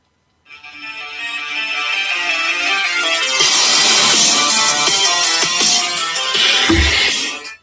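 A phone ringtone plays a song, loud and close, with layered music and beats running for several seconds before cutting off abruptly.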